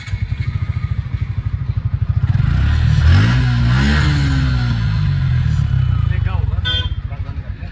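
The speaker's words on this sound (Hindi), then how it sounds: "अब इसको डालने के बाद 5 मिनट गाड़ी को हीट करते हैं और गर्म करते हैं।" A motorcycle engine idles as it warms up after an engine cleaning product has been added, with a steady, rapid close thump. The engine revs up and settles back midway, and people talk faintly in the background.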